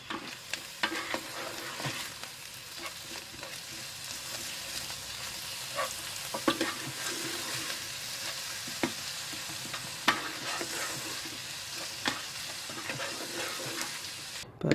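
Grated garlic and grated ginger with green chilies are stirred in a hot pan, sizzling steadily while a spoon scrapes and clacks against it at irregular intervals.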